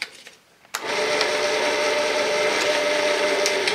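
A wood lathe fitted with a mechanical variable-speed pulley drive starts up with a clunk, then settles into a loud, steady motor whir and hum that continues to the end.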